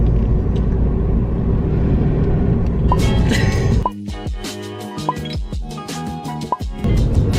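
A car driving along, its steady road and engine rumble filling the first few seconds before the sound turns choppier, with thumps, clicks and brief tonal chirps over a lower hum; no one speaks.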